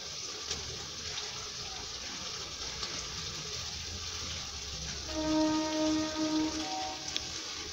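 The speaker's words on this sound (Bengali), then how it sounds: "এইবার আমি আস্তে আস্তে এঁচোড়টা দিয়ে দিচ্ছি" Boiled jackfruit going into a pan of fried spice paste for a Bengali prawn curry, with a broad continuous hiss and crackle of cooking, a louder burst of sizzling partway through, close and steady.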